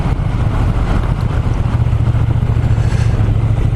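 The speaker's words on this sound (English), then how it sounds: "It takes me a little bit of time to recalibrate my brain to the way such a low revving high torque engine such as this delivers its power" A Triumph T120 Bonneville motorcycle engine lugs along at low rpm in third gear, a steady deep rumble with loud low-end throb and wind rush, continuous and close throughout.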